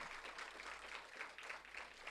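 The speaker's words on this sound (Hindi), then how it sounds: "दो टुक वाले अशोक जी के लिए एक बार जोरदार तालियां बजा दी" Faint but continuous applause from students at a journalism and mass communication orientation session, welcoming a guest with a dense, steady patter of many hands throughout.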